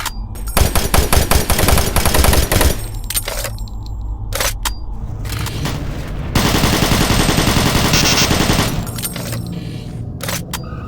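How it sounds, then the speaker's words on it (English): In the Doom 3 Phobos mod, a submachine gun fires sustained rapid bursts of crisp automatic gunfire broken by short pauses, with a brief click and then a louder, denser stretch of shots before trailing off. "the submachine gun has a much better sound effect"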